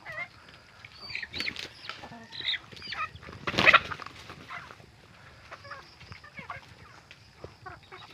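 Chickens clucking softly at a moderate distance, scattered calls over a quiet outdoor backdrop, with one louder squawk burst midway.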